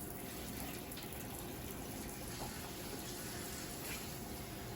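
Steady rush of lukewarm water poured continuously into a hoya houseplant pot, a soft even splashing stream heard close up with no talking.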